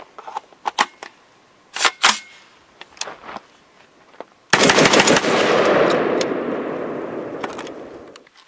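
Shots from a Genesis Arms 12 gauge AR10 conversion upper firing budget birdshot: a few sharp, loud reports in the first half, then a sustained burst of rapid fire that rolls on to the end.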